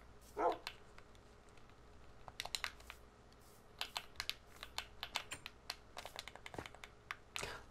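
Dogs bark in a Minecraft server game, a short loud yip near the start, mixed with quick clicking keyboard typing that runs through most of the clip.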